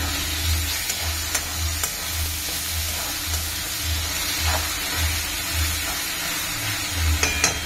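Tomato paste hits a hot pan and sizzles steadily, a dense crackling hiss with a low rhythmic rumble pulsing beneath and occasional clinks of a utensil.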